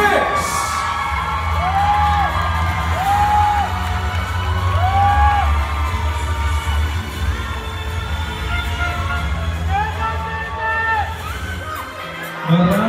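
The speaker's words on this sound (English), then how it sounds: "A big round of applause, ladies and gentlemen, our top 6." A crowd at the Mr Gay World Philippines 2025 pageant cheers, whoops and shouts for the top six candidates, a loud, steady roar of voices with high yells rising over it and music playing underneath.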